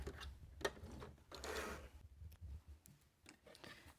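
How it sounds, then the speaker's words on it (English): A sewing machine back stitches through scrap fabric on a small notebook cover, running in short mechanical bursts with brief pauses, close and fairly quiet, with no voices. "I'm going to back stitch right there."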